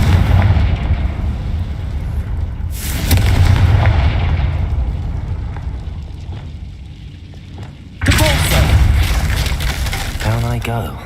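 In the Hogwarts Legacy video game, a Confringo blasting curse goes off in loud, rumbling bursts of explosion, with a fresh blast near the end and crackling debris fading out.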